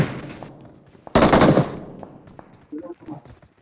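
Gunfire in the video game PUBG: a loud, dense burst of automatic fire lasting about half a second, followed by people talking.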